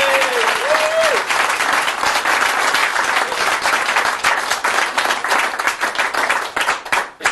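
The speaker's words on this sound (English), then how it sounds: "give these people a round of applause for coming back" Loud, close audience applause and clapping at a comedy stage hypnosis show, dense and continuous before thinning out at the end.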